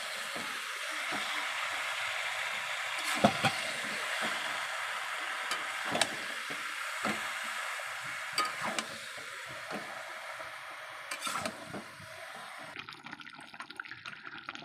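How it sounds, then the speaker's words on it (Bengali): Cock chicken curry fries and is stirred in a pan, a steady moist sizzle broken by irregular spoon scrapes and knocks. "নাড়াচাড়া করে নেব।"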